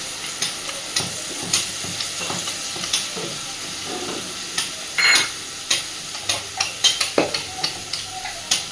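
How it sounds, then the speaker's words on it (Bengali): Soaked red lentils (masoor dal) dropped into a hot pan and stirred, a steady close sizzle with repeated sharp scrapes and clicks of a spoon against the pan, one louder splash-like burst midway, no talk. "এইবার এই ভিজিয়ে রাখা মুসুর ডালটা এর মধ্যে দিয়ে দিলাম।"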